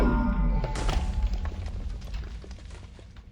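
A tank fires in Minecraft, a deep booming thud up front that decays into a rumbling, crackling tail over a few seconds, with faint scattered pops afterward.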